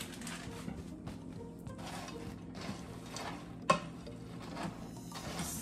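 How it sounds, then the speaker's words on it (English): A spoon stirs seasoned stuffing mix in a pan, giving soft, quiet scraping and scuffing strokes over a faint sizzle, with one sharp clink of metal on the pan partway through. "Stir this."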